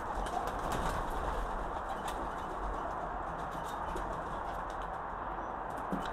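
Homing pigeons flap their wings and coo softly outdoors, a steady low flutter with occasional brief wingbeat bursts and faint bird calls in the background, no one speaking.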